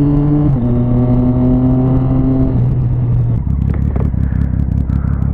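Motorcycle engine idling steadily up close with a low, continuous hum that shifts pitch partway through, then settles into a rougher, lower drone.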